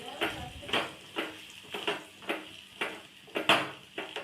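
Spice powders including coriander, turmeric and garam masala being stirred into a pan for goat intestine curry, giving a steady rhythm of about nine scraping strokes alongside a faint sizzle.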